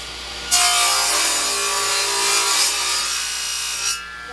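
Sustained hand-sawing through wood while cutting 5/8 by 3/8 inch joinery for three-frame honeybee queen mating nuc boxes, a steady rasping stroke rhythm running close and loud for about three and a half seconds, with no talk.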